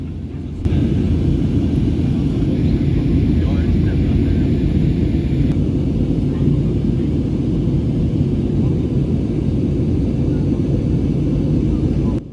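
Inside the cabin of an Airbus A320 airliner climbing out of Barcelona, a loud, steady engine roar and rushing air drone persist without a break.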